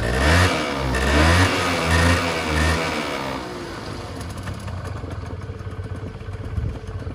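A Honda Giorno 50cc two-stroke scooter engine fires up and revs loudly up close, with a few throttle blips in the first seconds before settling into a steady, buzzing idle.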